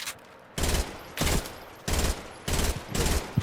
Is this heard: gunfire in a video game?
yes